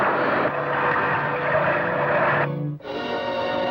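A cartoon submarine fires a torpedo toward a reef, heard as a steady, rushing drone that briefly drops out near the end before surging back.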